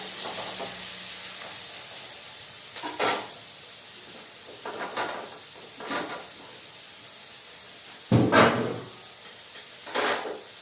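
Dal fries in a pan with a constant steady hiss, broken by several short scraping and clattering bursts of stirring against the pan.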